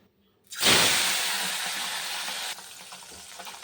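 Small puti fish, coated in turmeric, hit hot oil in a frying pan with a sudden loud burst of sizzle. A steady hiss holds for about two seconds, then drops to a quieter crackle.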